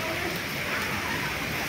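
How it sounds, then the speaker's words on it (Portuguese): Afternoon rain in the city of Muriaé, Minas Gerais, a dense steady hiss of rainfall pouring down, loud and unbroken throughout. "essa chuva de tarde aí em Muriaé"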